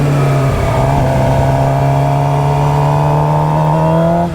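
A vehicle engine holds a steady, rising drone while revving during a wheelie attempt, with a long sustained pitch climbing gradually, close and fairly loud throughout, with no talking.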